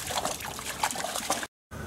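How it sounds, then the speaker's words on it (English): Water trickles and splashes steadily into a fountain basin as it fills, close by, with a brief cut to silence near the end. "the fountain is being filled"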